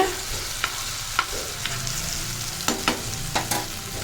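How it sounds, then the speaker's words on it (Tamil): Ground coconut paste stirred into ghee in a pan for a traditional coconut thirattu paal sweet: a steady close sizzle with sharp spoon clicks and scrapes against the pan at irregular intervals. "அதே பேனில் நெய்யோடு இருக்கட்டும் நம்ம அரைச்சி வச்ச அந்த விழுதையும் இதோட சேர்த்துடலாம் சேர்த்துட்டு நல்லா கிண்டி விட்டுருங்க"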